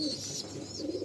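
Pigeons cooing inside a loft at Amtala, Behala, a soft continuous murmur of low coos heard close by with faint higher chatter above.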